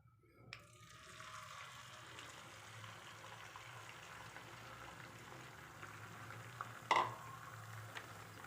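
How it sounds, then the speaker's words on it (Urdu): Beaten eggs fry in hot oil with a steady, soft sizzle and bubbling that runs throughout, fairly quiet, with a brief sharper clatter near the end. "ابھی ہم اس کو اس میں اچھی طرح فرائی کریں گے۔"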